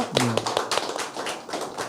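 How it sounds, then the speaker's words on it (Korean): A small audience claps to welcome guests at a talk event held in a cinema: a short burst of close, crisp hand claps, with a voice briefly heard at the start. "네, 큰 박수로 한번 환영해 주세요"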